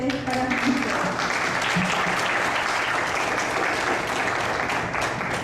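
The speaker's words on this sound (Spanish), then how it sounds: "un aplauso nuevamente para ustedes." Sustained audience applause fills a hall at a family event, a dense, steady wash of many hands clapping close and loud from start to finish, with a few voices faintly mixed in.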